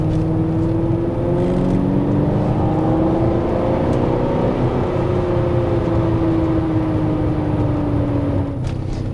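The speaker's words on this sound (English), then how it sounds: "Hear that gentle burble. Even better in second gear." A classic Porsche 928 engine gives a steady, gentle low burble while driving, with smooth rises in pitch as it pulls. Road noise sits under the engine, and nobody speaks.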